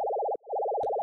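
A steady synth bass tone wobbles rapidly up and down in pitch from very low-frequency FM, briefly dipping out before the warbling resumes.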